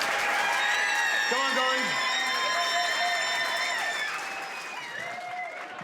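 A comedy-club audience applauds and cheers a comedian being introduced on stage, with steady dense clapping that gradually fades while a voice calls out briefly over it.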